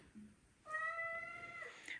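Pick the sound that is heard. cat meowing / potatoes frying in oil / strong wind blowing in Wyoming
cat meowing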